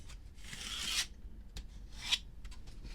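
Pencil scribing a line on a panel inside a Sprinter van, two short scratchy rubbing strokes with a small tap between them, close and quiet.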